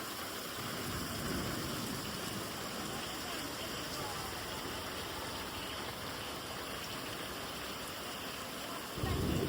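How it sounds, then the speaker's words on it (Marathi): Heavy rain pours down in Kolhapur in a constant dense hiss, swelling slightly louder near the end. "कोल्हापुरात खरंच खूप जोरात पाऊस चालू झालेला आहे"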